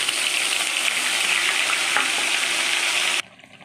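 Spice paste hits hot oil left from frying katla fish, giving a loud, steady sizzle with stirring scrapes that runs close and unbroken for about three seconds before cutting off abruptly.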